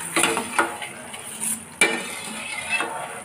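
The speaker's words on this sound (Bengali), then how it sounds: "হলুদ তেলের সঙ্গে ভালো করে ফুটবে" Turmeric frying in hot oil in a pan gives a steady sizzle, broken by scraping stirs and light clinks of a utensil against the pan. No one speaks.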